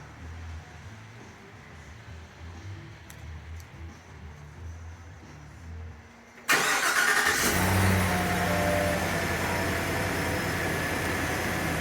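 A 2024 Chevy Silverado fires up by remote start after a quiet stretch, giving an abrupt crank and catch that settles into a steady, fairly loud idle, close by and with no talk.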